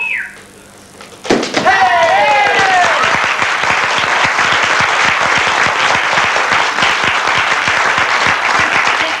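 An audience bursts into loud, sustained applause and cheering right after a stage trick, dense rapid clapping filling the room close by and steady for several seconds, following a brief sharp thud.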